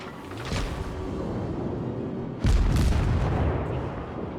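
Guns on the Erie, a tier 1 American cruiser in World of Warships, fire in two booming salvos, the second heavier and more thunderous, each followed by a rumbling tail over steady background game noise.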